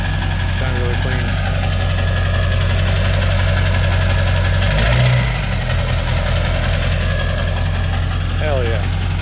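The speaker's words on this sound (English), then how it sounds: "It's got a straight pipe 4-inch on here, turbo back, so sounds really clean" A 2002 Ford F250 with a 7.3L diesel idles through a 4-inch turbo-back straight pipe exhaust, a loud, even, low rumble close by while a voice talks over it.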